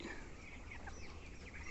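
Hens clucking softly inside a poultry shed on a farm, faint scattered chirps and clucks over a low background hum, distant and quiet.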